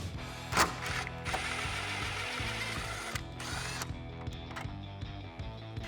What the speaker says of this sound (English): With your 8 millimeter socket, go ahead and remove this bolt